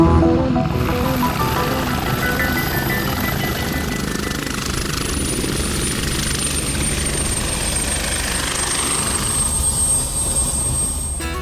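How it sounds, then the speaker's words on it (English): A rescue helicopter lifting off roars loudly and close, its rotor thudding continuously with a high engine whine on top, no voices. "As the choppers lifted off"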